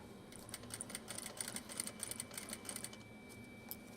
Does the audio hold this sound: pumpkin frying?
no